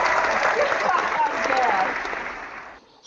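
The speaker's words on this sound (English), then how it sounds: "Just give a round of applause." A round of applause rises from a small audience, steady clapping with a faint voice or two running underneath, holding for a few seconds before it fades out quickly at the end.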